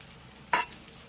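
Sago tossed with fried peanuts and other ingredients, a single brief scrape and clink of a spoon against the pan over faint background sizzle, fairly quiet and close.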